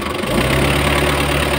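Hyundai Porter T4BB diesel engine held at a raised, steady speed, a close, loud droning hum with a constant pitch across the short burst and no voices.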